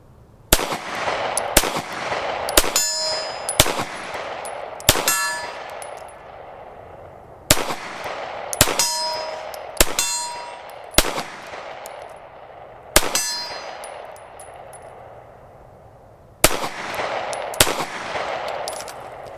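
Smith & Wesson CSX, a compact aluminum-frame 9mm pistol, fired at steel targets: a dozen or so sharp, loud shots in irregular pairs and bursts, each followed by a bright ringing clang of metal, with no talking.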